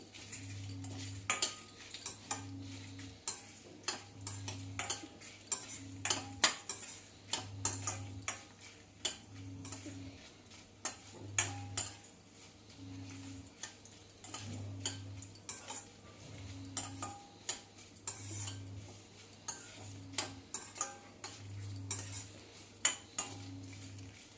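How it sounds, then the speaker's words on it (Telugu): Mustard seeds spluttering and dried red chillies frying in a pan make faint, scattered sharp pops and clicks over a low, pulsing hum. "చిట్టుబట్టలు ఆడుతున్నాయి కదా, అదే టైంలో ఎండుమిర్చి వేస్తున్నాను ఫ్రెండ్స్. ఎండుమిర్చి ఇవన్నీ బాగా వేగాలి."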